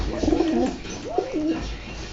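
Two clear coos from a Bazi pigeon, close and fairly loud, each a rolling low warble separated by a short pause.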